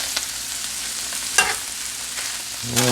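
Cheesesteak meat sizzles on a flat griddle while a spatula turns and chops it, a steady fry broken by a few sharp metal scrapes and taps against the hot surface.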